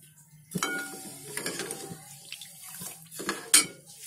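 A pot of water with sugar is set onto a lit gas stove in a home kitchen, giving a few soft metallic knocks and scrapes with faint clinks among quiet background sounds.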